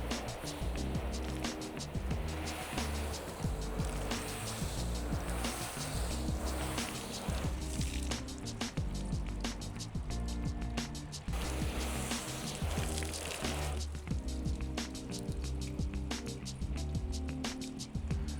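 Water from a shower nozzle sprays steadily over a car coated in ceramic sealant, making a continuous broad hiss with patter and splashes. The noise stays loud and even throughout.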